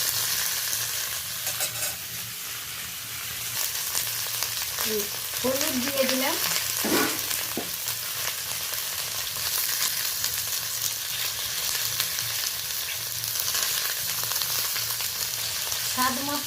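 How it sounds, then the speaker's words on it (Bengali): Eggplant and potato stir-fried with whole tempering spices and turmeric in an oiled pan, a loud continuous sizzle with stirring scrapes throughout and a brief spoken remark near the middle. "একটু ভালো করে ফোড়নের সাথে নাড়াচাড়া করে নেব।"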